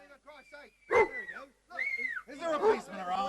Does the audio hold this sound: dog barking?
yes